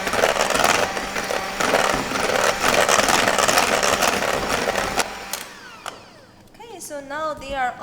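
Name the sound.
electric mixer mixing batter with cinnamon and ginger at high speed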